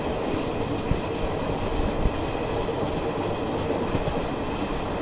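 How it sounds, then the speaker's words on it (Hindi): Tirupati–Adilabad Krishna Express with ICF coaches running past, a steady loud rumble with rhythmic wheel clatter over rail joints, close and continuous. "तिरुपति आदिलाबाद कृष्णा एक्सप्रेस"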